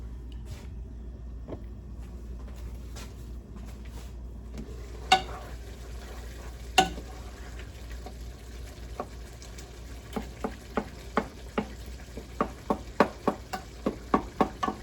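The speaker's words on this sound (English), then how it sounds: "Stir that up." Food frying in a pan gives a quiet continuous sizzle, broken by repeated sharp clicks and taps of a utensil stirring against it, growing more frequent toward the end.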